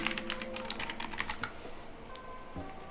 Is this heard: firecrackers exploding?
no